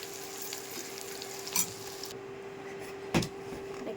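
Green chilies and garlic fry in a pan with a steady soft sizzle, broken by two brief louder scrapes of stirring; no one speaks.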